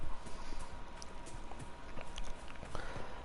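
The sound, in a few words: horse hooves clip-clopping in the video game Dragon Age Inquisition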